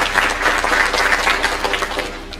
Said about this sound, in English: Can I get one more round of applause for Ray Phillips?